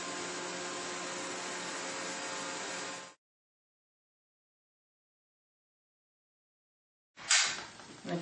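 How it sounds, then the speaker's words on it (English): A Dyson DC28 Airmuscle Animal canister vacuum cleaner runs with a loud, steady broadband whoosh for about three seconds, cuts to silence, then roars back on abruptly near the end. "The suction on this vacuum is incredible."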